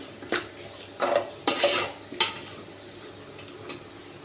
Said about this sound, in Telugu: మొత్తాన్ని మిక్స్ చేస్తున్నాను